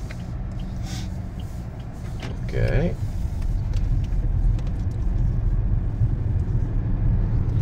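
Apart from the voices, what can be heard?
DR 5.0 1.5 turbo LPG automatic car accelerating from standstill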